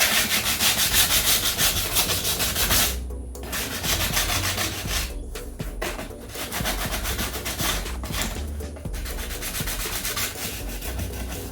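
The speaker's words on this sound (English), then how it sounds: "use sandpaper, steel wool, copper wool, something abrasive that'll scratch up the surface" Sandpaper rubs back and forth over a plastic doorbell cover to roughen its shiny surface, a loud, close, continuous rhythmic scratching with a few brief pauses.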